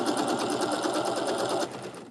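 A sewing machine runs steadily, stitching quilt block fabric in a fast, even hum, close and loud, then eases off near the end.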